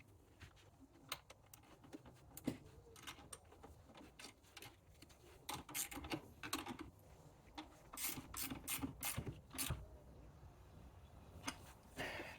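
A ratchet tightens the battery terminal on a 2011–2023 Chrysler 300, giving many quick close-up clicking bursts in an uneven rhythm over about twelve seconds, with no talking.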